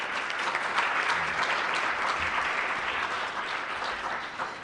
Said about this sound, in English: Put your hands together, clap.